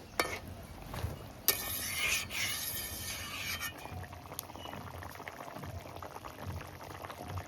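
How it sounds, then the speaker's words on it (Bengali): Bhola river fish curry from the Sundarbans bubbles steadily at a boil in a pan, a close, continuous gurgle broken by a couple of sharp utensil knocks near the start. "ঝোল খুব ভালোভাবে ফুটে গেছে"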